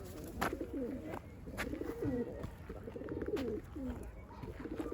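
A female Kaçak Arap pigeon coos in soft, repeated rolling phrases, fairly close but quiet, with a few faint clicks between the calls.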